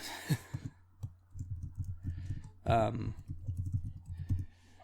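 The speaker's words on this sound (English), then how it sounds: "So if you hear a little bit of typing, that's what I'm doing." Quiet, irregular keyboard typing in short bursts of taps, with a brief voiced sigh-like sound partway through and a low steady hum underneath.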